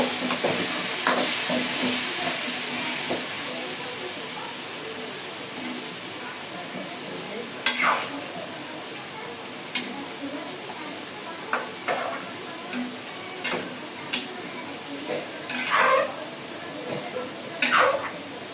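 Taro cooking with spices in a frying pan for an ilish fish curry, a steady low sizzle with scattered scraping stirs and clacks of the utensil, close and moderately loud throughout.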